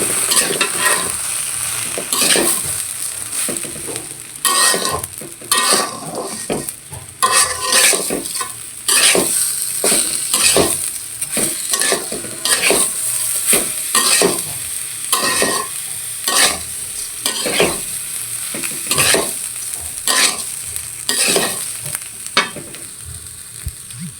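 Garlic, cumin and ginger fry in hot oil in a pan, a steady sizzle broken by repeated sharp scrapes and clacks of a spatula stirring, close and without talk.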